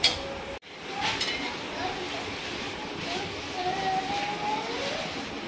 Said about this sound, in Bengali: আলু ভাজা চলছে